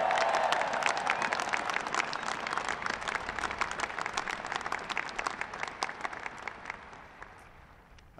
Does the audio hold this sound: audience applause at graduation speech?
yes